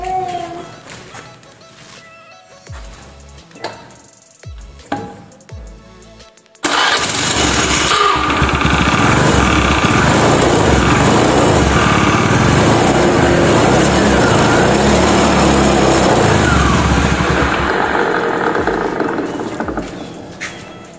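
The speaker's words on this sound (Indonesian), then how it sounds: "Jadi kita nyalakan motornya." A carbureted Honda Beat motorcycle with a rattling fault: a few scattered clicks and knocks, then the engine fires and runs loud and steady, close by, with a metallic rattle mixed into the idle.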